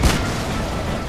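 A tank cannon fires in World of Tanks, a single loud booming shot at the very start that rolls off into a long, dense, sustained rumble of battlefield noise.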